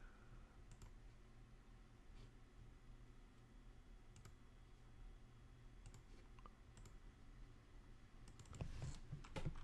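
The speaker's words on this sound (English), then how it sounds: "I'm going to type in VJX to see if he's messing with me" Typing on a computer keyboard, with sparse, faint key clicks in short bursts over a low hum, then a quicker flurry of taps at the end.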